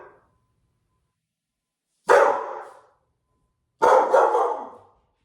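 Two loud, close dog barks outdoors, each a single harsh burst followed by a short fading tail, separated by a pause of about two seconds, with near silence around them.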